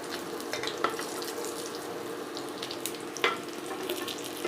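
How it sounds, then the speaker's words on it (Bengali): Bitter gourd slices fry in a pan with a soft, steady sizzle and scattered light crackles, plus a couple of sharper clinks, all fairly quiet and close. "এইভাবে একটু ভাজা ভাজা হয়ে গেলে"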